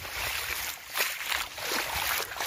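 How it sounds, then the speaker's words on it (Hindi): Water flows and trickles through a farm field, a soft continuous rushing that rises and falls slightly, heard alone without voices. "पानी का आवाज़ तो आ रहा है आप लोगों को।"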